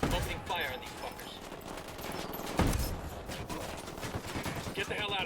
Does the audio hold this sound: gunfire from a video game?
yes